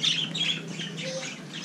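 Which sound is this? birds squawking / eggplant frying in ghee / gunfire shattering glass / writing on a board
birds squawking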